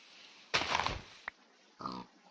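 A couple of short, synthetic pig grunts sound in a block survival game, with a brief click between them, against quiet background hiss.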